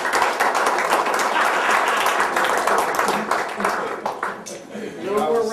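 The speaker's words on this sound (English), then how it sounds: "we all need to give Nancy a great round of applause" A round of applause from an audience at a county commissioners' gathering, steady clapping from many hands that fades near the end as voices come in.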